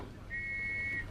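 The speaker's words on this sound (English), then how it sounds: "keeping in touch by blowing their whistles" A police whistle blown by a constable in dense fog, one sustained high steady blast lasting under a second, moderately clear over a faint muffled background.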